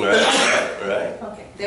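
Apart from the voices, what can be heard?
sneeze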